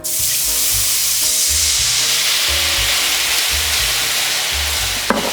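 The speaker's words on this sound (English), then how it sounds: "So we're gonna begin with a little bit of white wine, about a 1/4 cup or so." White wine, about a quarter cup, hits a hot pan to deglaze it for a chicken barbacoa sauce, producing a loud, steady, hissing sizzle that runs throughout, with a brief clatter near the end.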